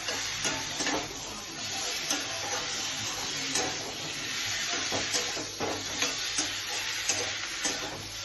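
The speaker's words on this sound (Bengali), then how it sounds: "এবার আমি এঁচড় ভাজা, আলু ভাজা এগুলো এর মধ্যে দিয়ে দেবো। দিয়ে এটাকে কষাবো।" Fried jackfruit and potato fries are stirred in a hot pan, with a continuous close sizzle and a regular scrape of a spatula turning them. No one speaks.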